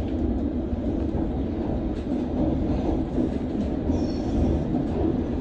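London Underground Circle Line train running, a loud continuous rumble of wheels and motors heard from inside the carriage, steady throughout with faint higher squeals near the end.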